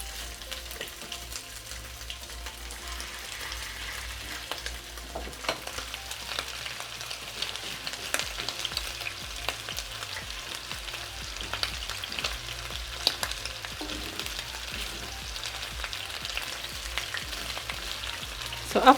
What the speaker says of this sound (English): just add a layer of oil and then add the beef